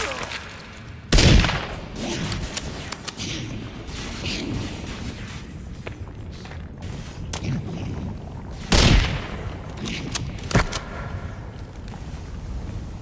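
Rifle shots in the survival game Sons of the Forest, two loud sharp cracks several seconds apart with smaller clicks and clatter between, over a busy game backdrop while a person talks.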